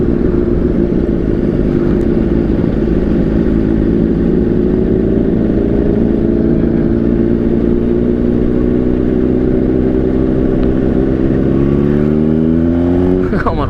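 Honda CBR600RR motorcycle engine droning steadily in high gear on an open road through Valley of Fire State Park, with heavy wind rush and a rising pitch near the end.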